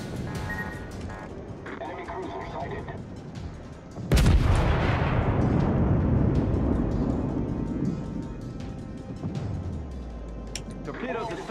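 Naval gunfire from World of Warships: a sudden heavy boom of shells striking the ship, followed by a long rumbling roar that fades out. Steady game noise runs underneath.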